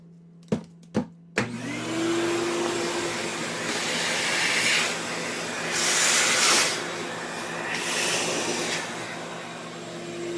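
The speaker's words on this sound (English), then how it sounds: "All right, let's hit it with a vacuum." A shop vacuum switches on after a few sharp clicks and runs loudly for several seconds, sucking up dust in a dusty workshop, its steady roar rising and falling as the nozzle moves.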